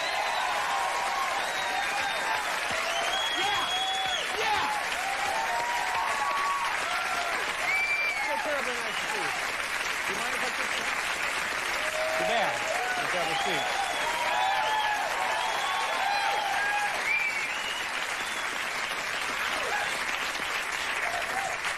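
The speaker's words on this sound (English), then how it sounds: "You show up and the crowd goes crazy." A studio audience breaks into long, enthusiastic applause and cheering for guest Terry Garr at a Christmas TV party, with whoops and shouts rising over dense clapping that holds strong and steady throughout.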